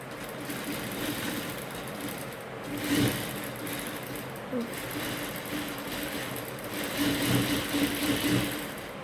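A sewing machine runs steadily while stitching a churidar shoulder seam with a double line of stitches, its motor hum continuous and close with slight surges, and a voice is mixed in.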